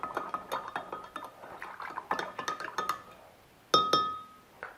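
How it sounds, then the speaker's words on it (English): A spoon clinks against a glass holding homemade limoncello liqueur ingredients, giving a quick run of sharp, bright taps with a few louder ringing strikes near the end, close and alone. "just going to give it a stir to incorporate all the ingredients together"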